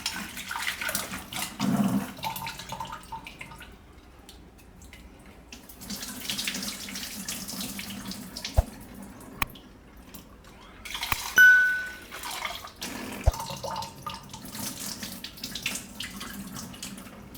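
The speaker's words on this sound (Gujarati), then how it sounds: "તો દાળ આપણે 2 પાણીએ ધોઈ નાખી છે" Lentils are rinsed under running water in a kitchen sink: a steady tap stream with splashing and swirling, brief clinks of a vessel, and a louder surge of water partway through.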